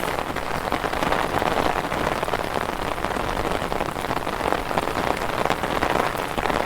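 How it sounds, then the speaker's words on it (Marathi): Sudden heavy rain pours down in a constant, dense patter on surfaces, close and loud, with no voices. "आता 5-10 मिनिटापूर्वीच पाऊस चालू झालेला आहे."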